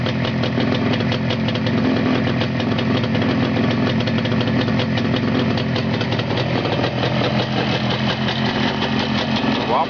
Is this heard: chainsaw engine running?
yes